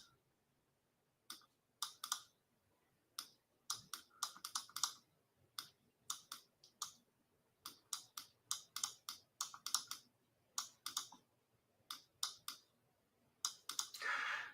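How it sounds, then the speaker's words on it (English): Someone types on a computer keyboard in an office, crisp keystrokes coming in quick bursts and short runs with brief pauses, close and fairly quiet, no voices. "And then let's type in YouTube."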